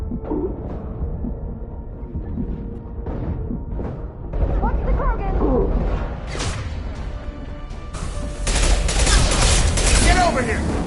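Rapid gunfire crackles in Mass Effect 2, bursts of automatic fire and sharp impacts building into a dense loud barrage, with combat voices shouting over it.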